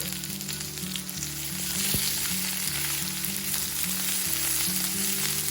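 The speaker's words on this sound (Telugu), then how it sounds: "వంకాయ ముక్కలు వేగుతున్నప్పుడు దీనిలో 1/2 టీ స్పూన్ అల్లం వెల్లుల్లి పేస్ట్ వేసుకోండి." Brinjal pieces fry with ginger garlic paste in hot oil, giving a constant close, loud sizzle with a faint stir or two beneath. A low steady hum runs underneath, and no voice is heard.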